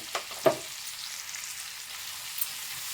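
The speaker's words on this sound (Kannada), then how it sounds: "ನೀಟಾಗಿ ಮಿಕ್ಸ್ ಮಾಡ್ಕೊಳ್ಳಿ. ಸ್ವಲ್ಪ ಫ್ರೈ ಆಗಲಿ." Turmeric powder fries in a pan with a soft, steady sizzle, broken near the start by a couple of sharp clinks of a spoon stirring it, then a faint tap later on.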